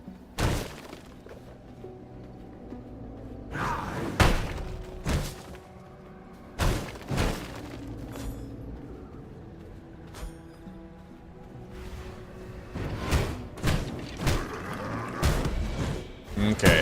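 Explosive bursts from exploding skulls in the video game V Rising, a dozen or so sharp cracking blasts at irregular intervals, some clustered in quick pairs, over a steady game background.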